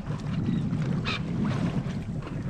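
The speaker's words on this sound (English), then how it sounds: "As I'm sailing, I got both sails up, cruising along" Sailboat under way with both sails up, giving a steady low rush of wind and water against the hull, with a constant noisy whoosh throughout and no talking.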